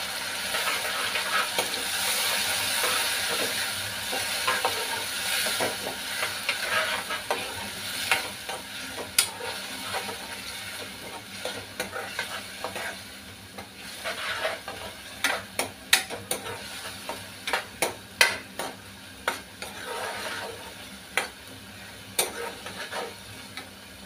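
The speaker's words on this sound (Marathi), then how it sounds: "कांदा चांगला बदामी कलरचा झाला की आपण आता त्याच्यामध्ये थोडं हे जे हिरवं वाटण आम्ही थोडं बाजूला ठेवलं होतं ते मिक्स करून घेणार आहोत" Browned onion and green masala paste being stirred in a frying pan, a continuous sizzle with scraping strokes, and sharper clicks and knocks of the spoon against the pan later on.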